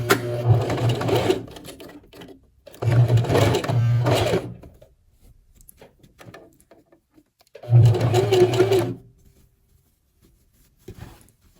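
A sewing machine stitches the seam of a V-neck women's blouse in three loud bursts of rapid motor-driven clatter, separated by quiet pauses with faint handling noises.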